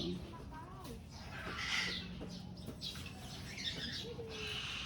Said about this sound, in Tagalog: Lovebird is the common name of the genus Agapornis, a small group of parrots in the world.